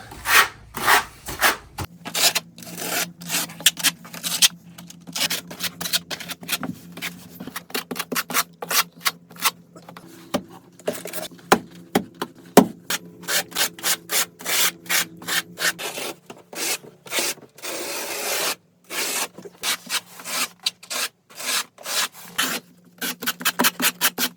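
A trowel scrapes in repeated rhythmic strokes as it presses thinset mortar into a shower pan with a linear drain. Each pass makes a gritty rubbing sound, loud and close.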